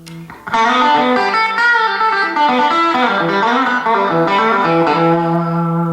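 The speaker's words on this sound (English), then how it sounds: "And then you can go right to that monolith, the full monolith sound." Sounding louder and fuller, an electric guitar runs its RebelSonic Monolith pickup at full setting into a Fender amp, strumming sustained, slightly overdriven chords and bending notes after a short soft opening strum, with no voices.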